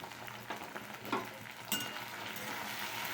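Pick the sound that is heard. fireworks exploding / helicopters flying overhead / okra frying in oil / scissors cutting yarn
okra frying in oil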